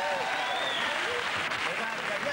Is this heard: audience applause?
yes